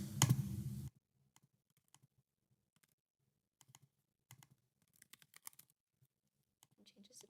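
Text being typed on a computer keyboard: after a brief loud burst at the start, scattered quiet key clicks come in irregular short runs, faint and close, with no voice.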